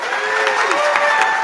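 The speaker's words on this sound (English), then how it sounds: "Let's give them a round of applause," Conference plenary audience clapping and cheering loudly at close range, a brief thick burst of applause with raised voices throughout.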